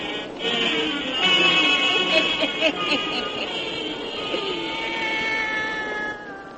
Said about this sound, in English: Satan, her wise black cat.